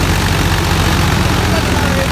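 A tractor engine runs steadily under load at around 1500–1600 RPM, a loud, continuous low rumble with constant vibration throughout.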